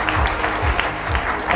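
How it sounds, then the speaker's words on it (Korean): An audience at the HiSeoul Festival 2023 in Seoul claps in a steady, dense burst of applause, loud and close, with no pauses through the short stretch. "다시 한번 뜨거운 박수 부탁드리겠습니다."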